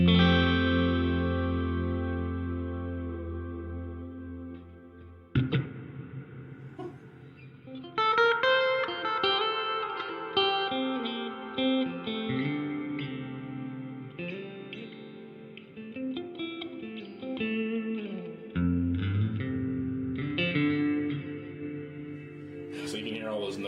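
Electric guitar through a Donner reverb and delay pedal with the effect turned fully up, sustained chords blooming into long, layered echoes and a thick reverb tail that keeps notes hanging; moderately loud with no voices.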